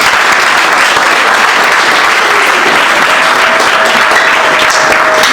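Loud, dense applause fills the space continuously at a Haitian wedding reception in Brazil, with many guests clapping together at close range.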